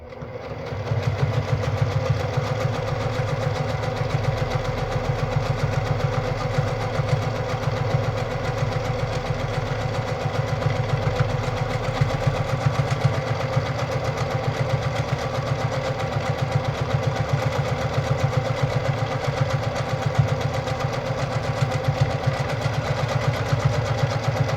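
Brother PQ1500SL sewing machine stitching during free motion quilting, a steady, fast mechanical hum and rapid needle chatter running continuously at close range with no talking.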